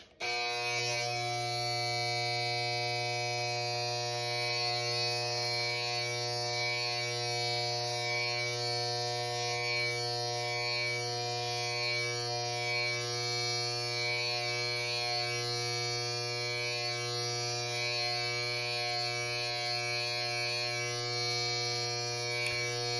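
An electric beard trimmer buzzes steadily and loudly throughout, a constant motor whine with strong mains-like hum, running alone without speech.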